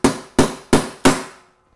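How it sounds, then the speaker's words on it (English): Four sharp metallic hammer blows on a bolt head in steady succession, knocking an embedded nut from a motorcycle frame, each ringing briefly before the next; close and loud, with no talking. "you're just going to take a hammer and you're going to give this a smack"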